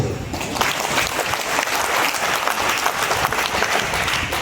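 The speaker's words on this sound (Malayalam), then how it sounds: "കൈയടിച്ചു" Dense, steady clapping from an audience at a class fills the whole stretch, loud and close with no pauses.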